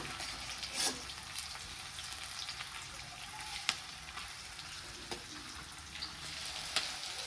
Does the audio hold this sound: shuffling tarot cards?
no